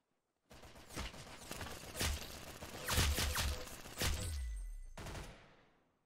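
Bursts of gunfire in a first-person shooter game, several sharp volleys and rapid shots spread across a few seconds, loud and close with no talking.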